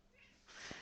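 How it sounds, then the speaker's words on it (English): A domestic cat meows once, short and fairly close, over quiet room noise at the end of a hushed stretch. "That's my cat."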